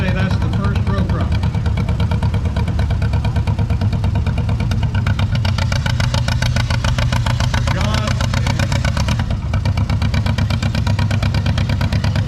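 A 1937 Allis-Chalmers WC tractor engine chugs steadily nearby during a parade at the Oklahoma Steam and Gas Engine Show, a loud continuous rumbling idle with an announcer talking over it.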